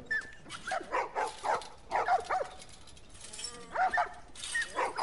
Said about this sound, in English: I actually have a puppy right here.